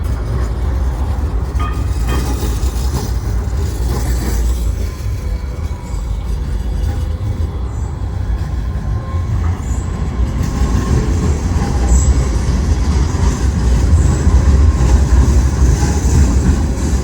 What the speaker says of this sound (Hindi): वो ट्रेन आई है, ये अभी ट्रेन आई है।